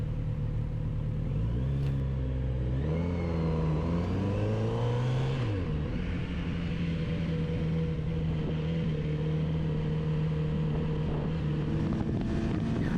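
A Kawasaki Z900RS SE motorcycle accelerates along a dual carriageway, its engine note rising through the gears in a steady, continuous drone with heavy wind rush over the microphone throughout.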